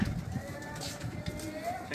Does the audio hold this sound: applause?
no